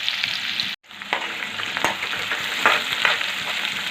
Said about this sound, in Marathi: कांदा हा आपल्याला लाल रंगावर येईपर्यंत छान एकसारखा हलवत परतून घ्यायचा आहे